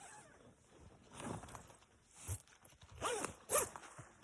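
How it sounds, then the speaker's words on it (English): A tent's outer door zipper pulled open in a winter camping setup, several short rasping zips in quick bursts, close and fairly quiet, with faint rustling between them. "And there is a outer zipper"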